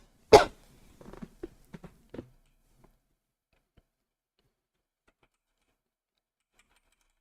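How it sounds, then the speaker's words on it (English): A person coughs once sharply and loudly, then follows with a series of smaller throat-clearing grunts and short coughs that fade out, leaving near silence for the rest. "I really need to clear my throat, but it like hurts to cough every time."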